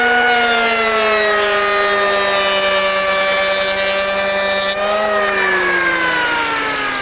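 An Unlimited 750W triple-blade electric rebate planer running continuously, a loud, steady high-pitched motor whine with a slight drop in pitch partway through, with no talk.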